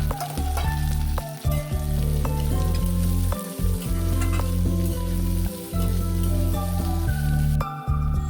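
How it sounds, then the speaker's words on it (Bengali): Whole cumin seeds, two cardamom pods and dried red chillies sizzling in hot oil, a dense crackling fry with spattering pops and stirring, close and loud throughout with no talking. "তারপর দিয়ে দিচ্ছি তেলের মধ্যে গোটা জিরে,"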